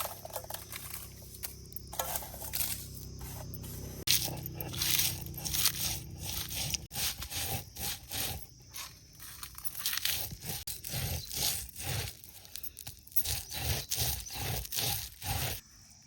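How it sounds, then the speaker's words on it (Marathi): Chilies for a Vidarbha-style vamb fish curry are ground by hand on a grinding stone, giving irregular crunching and scraping strokes close by, with crackly bursts that vary in loudness, and no voices. "मिरच्या घेतो वाटून"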